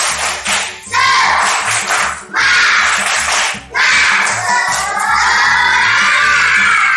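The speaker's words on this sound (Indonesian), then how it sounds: "1, 2, 3, tepuk semangat." Schoolchildren in a classroom doing a rhythmic spirit clap, bursts of fast patterned clapping mixed with excited shouting, loud and close, broken by short pauses between rounds.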